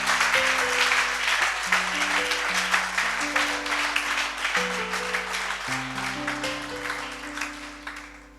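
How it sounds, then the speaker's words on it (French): Sustained applause from a large church congregation, dense and loud, with steady clapping over a held musical chord in the background. "Donne une offrande d'acclamation à Jésus."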